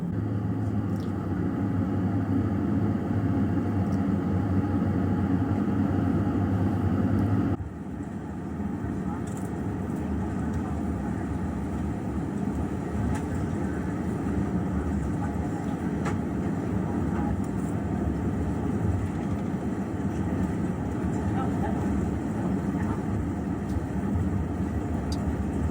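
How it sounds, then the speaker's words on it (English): After pushback and engine start, an airplane taxis out toward the runway with a steady, loud, low rumble that shifts in tone partway through and continues under occasional talking. "After pushback and engine start, we'll soon be taxiing out to the runway."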